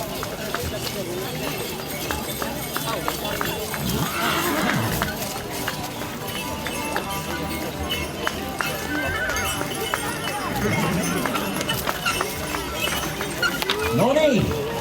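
Purebred Tori horses parade at an outdoor show, their hooves clip-clopping steadily at a trot amid a busy crowd ambience and an announcer talking over the scene.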